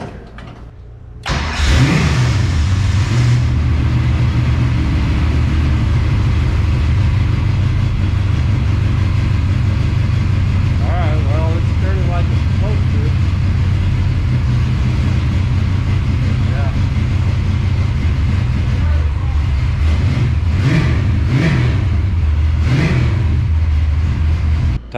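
A 1967 Ford Mustang engine starts, revs and settles into a steady idle with a few blips of the throttle, loud and close, while people talk faintly underneath.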